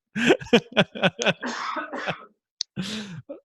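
A burst of harsh coughs into a headphone mic in quick succession, several sharp hacks followed by a pause and two more rough coughs, loud and slightly distorted.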